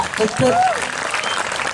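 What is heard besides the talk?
audience applause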